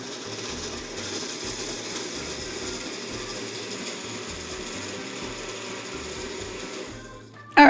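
Blender whirring as it mixes a drink, a steady loud motor drone with rattling blades that runs for several seconds, then cuts off abruptly.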